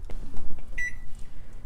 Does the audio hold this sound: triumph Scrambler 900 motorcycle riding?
no